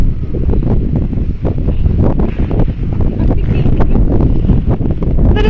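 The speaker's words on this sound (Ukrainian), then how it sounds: "Ох, вітер піднімається" Strong wind buffets the microphone in loud, continuous gusts, a rough blustery roar that swells and dips without letting up.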